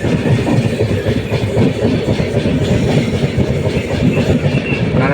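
A passenger train pulls into Dindigul Junction on the Karur to Madurai line via Trichy, its wheels clattering steadily over the rails with a loud continuous rumble and rhythmic clickety-clack throughout.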